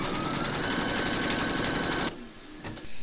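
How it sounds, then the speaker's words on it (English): A home embroidery machine stitches a placement outline for an in-the-hoop appliqué scarecrow: a fast, loud, even needle chatter for about two seconds, then it stops, leaving quiet with a few light knocks. "pop your hoop into your machine and stitch round number one"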